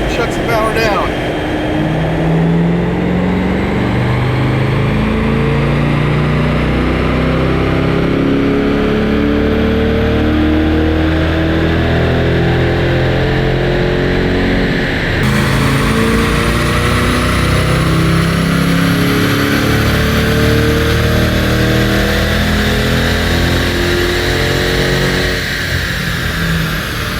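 A 2024 Chevrolet Corvette E-Ray hybrid running on a dyno, its engine climbing through repeated loud revving sweeps and gear changes that fill the whole stretch.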